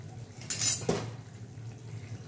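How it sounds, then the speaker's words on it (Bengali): A spoon clinking against a pot of custard while lifting out cardamom pods, two quick metallic scrapes close by, with no talk. "আমি চামচ দিয়ে সব এলাচগুলো এক এক করে তুলে নেব"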